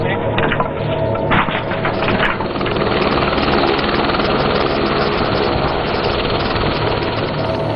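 Military helicopters, Mi-17, Dhruv and Cheetah, on earthquake relief flights in Nepal, a loud continuous rotor and engine roar that fills the whole stretch.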